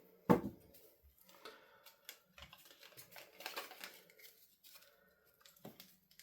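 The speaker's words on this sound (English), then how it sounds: "So let's give these a shuffle." Quiet, close papery flicking and riffling in short bursts, like cards being shuffled on a tabletop, with a sharper snap near the start.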